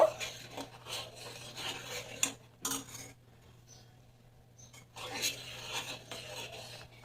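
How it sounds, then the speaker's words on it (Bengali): Semolina is stirred in a pan as it cooks, with soft scraping and rubbing strokes of the spoon against the pan in two bursts, a quieter gap between them and a steady low hum underneath. "এবারে সব কিছু মিশিয়ে এই সুজিটা আমি ভালো করে রান্না করে নেব।"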